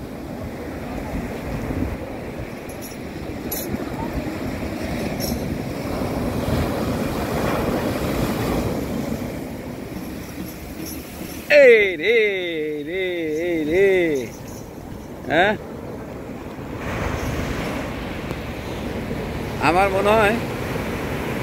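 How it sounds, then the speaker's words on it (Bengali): Rough sea waves wash at night on the beach at Cox's Bazar, a continuous windy surf roar buffeting the microphone, with people talking over it in the second half. "সমুদ্র এখন উত্তাল।"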